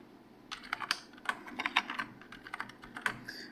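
Computer keyboard typing close by, a quick irregular run of crisp key clicks and taps over a faint steady background hum.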